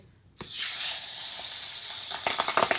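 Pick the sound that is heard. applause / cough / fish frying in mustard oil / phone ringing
fish frying in mustard oil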